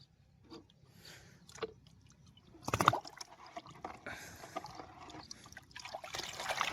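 Water sloshes and trickles as salt is stirred in to dissolve for a herbicide spray mix, with a louder splashy swirl in the middle and soft swishing throughout.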